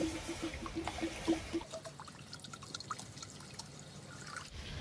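Water poured into a pot on a home stove while making a steamed egg and cabbage dish, a steady trickling splash for the first second and a half, then a quieter liquid dribble.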